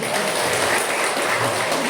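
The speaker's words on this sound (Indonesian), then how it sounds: "Tepuk tangan buat PT Olilem." An audience at a company presentation event in Pringsewu, Indonesia, gives a short burst of dense applause, steady and fairly loud throughout, with no voices over it.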